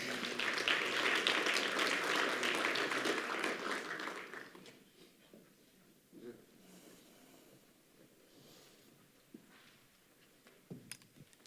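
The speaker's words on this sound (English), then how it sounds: "Let's give her a warm round of applause." Warm audience applause at an innovation summit morning session, a thick burst of clapping for about four seconds that then fades into quiet room tone with a few scattered small sounds.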